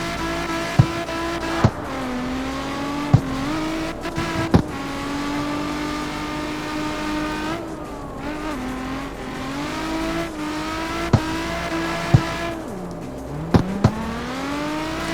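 Drift car engine revving hard in the CarX Street video game, a loud steady drone rising and falling through gear changes, with sharp clicks and brief tire squeals.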